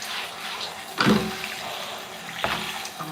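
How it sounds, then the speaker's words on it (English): Running water rinses conditioner out of curly hair during a wash day, a steady hiss of spray broken by two louder splashing gushes, with no talking. "And rinse off the remaining conditioner"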